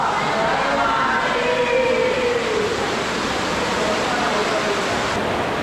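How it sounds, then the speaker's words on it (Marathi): Water gushes forcefully out of a cave at the Jata Shankar Mahadev cave temple in Pachmarhi, a loud, steady roaring rush that stays constant throughout, close by. "पण जे पाणी येते ते या फोर्सने पूर्ण बाहेर पडतंय।"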